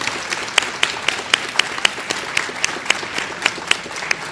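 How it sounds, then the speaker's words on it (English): Audience applause after a panel on climate and environmental justice at the COP26 U.S. Center, a steady crackle of many hands with sharp individual claps standing out throughout. "join me in a round of applause for this outstanding panel"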